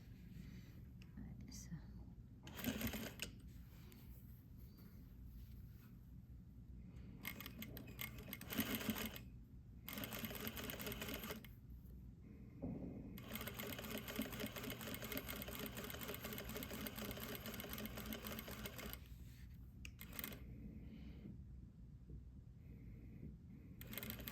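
A sewing machine runs a 1/4 inch back stitch in several steady whirring bursts separated by short pauses, fairly quiet and close, with soft speech in places.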